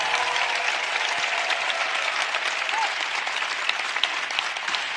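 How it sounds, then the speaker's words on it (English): Audience applause fills Malmö Arena during a closing ceremony, a broad, even wash of many hands clapping at a distance for several seconds, with a faint tone or two rising above it. "I really don't get why you applaud"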